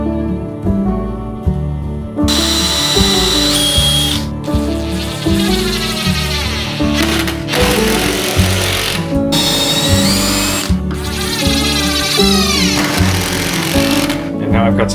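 A power drill drives screws through angle brackets into a floor and the underside of a table, with repeated whirring bursts and pauses, fairly loud and close, over background music.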